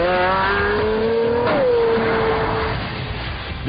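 A 650-horsepower Pagani Zonda sports car accelerates hard, its engine note rising loud and close, dipping briefly at a gear change before climbing again and fading slightly toward the end.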